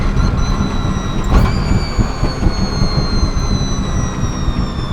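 A 1959 Chevrolet Impala engine roars steadily and loudly from inside the car as it revs on downshifts, a dense continuous rumble with a rising whine on top.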